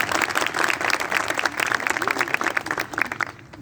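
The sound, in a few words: audience applause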